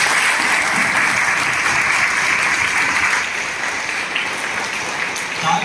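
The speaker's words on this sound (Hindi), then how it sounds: "जोरदार तालियां" Loud, sustained applause from a crowd at a congratulatory event, dense rapid clapping that fills the space and carries on steadily without a break.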